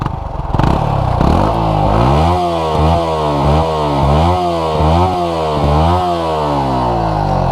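Yamaha MT15 and R15 motorcycle engines rev hard, starting with a sputtering start-up then repeated rising throttle blips in a steady rhythm, close and loud with no talk.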